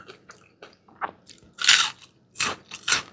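Crunchy bites into small fried white pomfret with fried garlic, a series of short crisp crunches, with quieter chewing clicks first and then three loud, sharp bites close to the mic.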